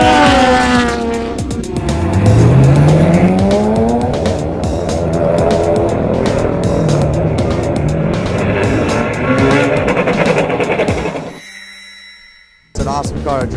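A BMW race car engine on a track roars and revs hard, rising through gears with a brief tire squeal, then cuts out suddenly before returning.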